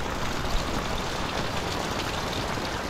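Heavy rain falls steadily during a mountain camping trek in La Trinidad, a dense, even hiss of drops close around with no pauses and no voices.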